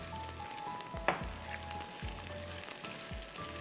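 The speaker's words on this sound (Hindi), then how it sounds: "हम इसको फ्राई करेंगे 2 से 3 मिनट कि ये ट्रांसपेरेंट हो जाए।" Ingredients frying in a pan toward transparency while cooking a jalfrezi karahi, a steady close sizzle with a few stirring clanks and scrapes, no voices.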